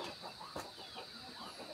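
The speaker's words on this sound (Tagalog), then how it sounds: "Ang dami pa palang pato dyan. Ayan o, pato yan." Ducks on a farm, with fowl-like clucks and quacks rising a few times over a steady background hum, moderately close but fairly faint.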